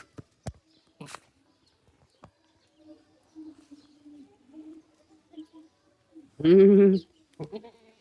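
A goat on a rural herding homestead gives one loud, close bleat near the end, with a second short call just after, following a stretch of faint scattered noises.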